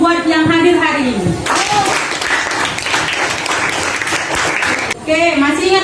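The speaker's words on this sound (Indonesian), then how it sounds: "Sekarang kita beri aplaus dulu buat yang hadir hari ini." Classroom applause from a group of students, a dense burst of clapping lasting several seconds, with a voice speaking just before and after it.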